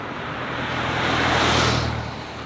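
Car passing slowly along a road by roadworks outdoors, a steady broad rumble that swells and fades as it goes by, no talking.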